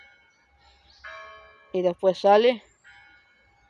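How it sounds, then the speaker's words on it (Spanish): Church bells of Cristo de Tacoronte ringing nearby in a park, faint sustained tones behind someone speaking Spanish, with the voice louder than the bells. "aquí las campanas del Cristo Tacoronte que está tocando"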